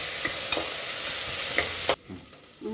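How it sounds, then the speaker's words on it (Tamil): Onions sautéing in hot oil with curry leaves, dried chilli and garlic, a loud continuous sizzle up close with a few stirring scrapes, cutting off abruptly near the end to quieter pan sounds. "வெங்காயம் வதக்கிச்சுப்பா"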